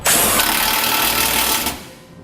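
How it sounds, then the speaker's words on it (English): A power tool with a 21mm socket tightens factory bolts while a Curt trailer hitch receiver is fitted to a 2019 Ram 1500, giving one loud, close, continuous whirring burst of about two seconds that winds down at the end. "we're going to come back to that 21mm socket and tighten up those 2 factory bolts"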